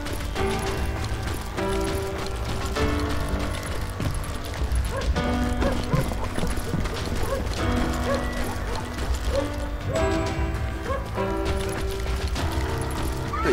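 Horses at the town stables in Call of Juarez: Gunslinger make a steady stream of clopping hooves mixed with creaking and ratcheting mechanical sounds, held at an even level throughout with some faint voices in the background.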